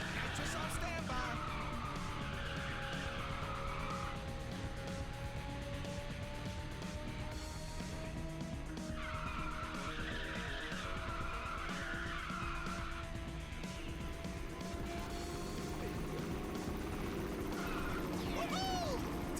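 Racing car engine in Ridge Racer 6 roars at high revs through a nitrous drift, with a sustained whine and tire screech layered over game music and a commentator's voice throughout.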